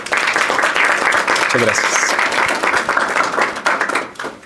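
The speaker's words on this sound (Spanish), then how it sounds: "Yo les pido un aplauso para nuestro ponente." An audience at a design lecture breaks into sustained applause for the speaker, steady clapping that fades near the end, with someone briefly speaking over it.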